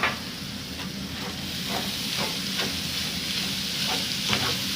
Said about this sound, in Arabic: عشان اعصب اللحمه مع البصل مع الفلفل في بعضيه